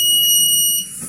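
A single loud, piercing electronic beep comes from the IR sensor of a DIY water filler. It sounds for most of a second, then cuts off into quiet room noise.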